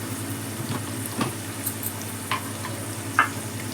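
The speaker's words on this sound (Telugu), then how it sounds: "ఉల్లిపాయలు మంచిగా నెమ్మదిగా మగ్గుతున్నాయి" Onions sautéing slowly in a pan for a palak egg curry, a steady soft sizzle with occasional stirring scrapes and small pops, close and alone without talk.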